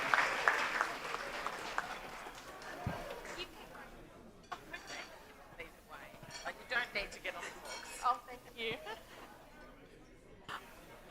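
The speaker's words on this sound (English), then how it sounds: "So round of applause for these two finalists." An audience at the 2025 Clarence Valley Sports Awards gives a fairly quiet round of applause for two finalists, which thins into scattered claps and murmured chatter, with some talking nearby.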